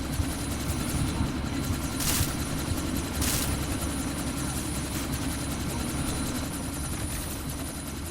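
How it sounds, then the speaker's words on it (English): Helicopter engine and rotor noise from the video game Deus Ex: Mankind Divided, a steady loud whine and low thrum that holds throughout with no talk over it. "That chopper's about to take off!"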